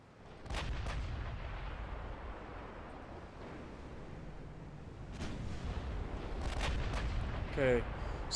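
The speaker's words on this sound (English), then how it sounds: "We've already landed a hit with 13-inch guns." Heavy 13-inch naval guns firing in the Ultimate Admiral Dreadnoughts warship game, a few deep booming salvos over a continuous rumbling sea-and-engine bed, with sharper reports near the end.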